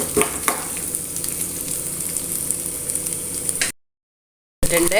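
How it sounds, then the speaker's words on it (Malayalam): Loud, even sizzling of coconut pieces frying in hot oil, with a few clinks early on, then a brief silent gap before the sizzle returns. "കുറച്ച് തേങ്ങ കൊത്തിട്ട് കൊടുക്കുന്നുണ്ട് അതൊന്ന് ആദ്യം വറുത്തിട്ട്"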